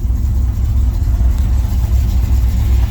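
A car engine revs steadily right after a rough start, a loud, continuous low rumble held close by for the whole stretch with no talk over it.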